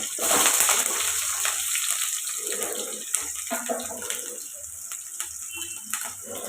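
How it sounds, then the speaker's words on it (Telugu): Onions and green chillies fry in hot oil for a curry with dried fish and brinjal, giving a steady, close, loud crackle and hiss that runs unbroken with no talking. "ఇవి ఇప్పుడు ఫ్రై అవ్వాలండి ఉల్లిపాయలు ఎలా ఫ్రై అవుతున్నాయి కదండి"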